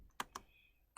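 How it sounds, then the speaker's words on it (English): A few quiet, separate keystrokes on a computer keyboard as a command is typed, with three or so crisp clicks spaced across a second. "So I'm typing ping"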